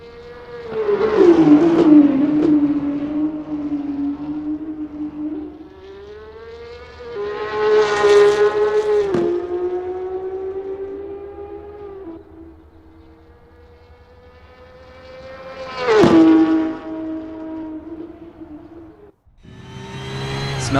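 A Porsche 911 GT3 Cup 992 racing engine in Assetto Corsa at Imola howls through rising revs with sharp gear shifts, surging loudly three times and easing between pulls, with no talk.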